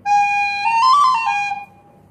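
A penny whistle plays a short, bright, steady melody of a few sustained notes that rise briefly and then fall, close and fairly loud, with no voices, ending in a quick fade to quiet.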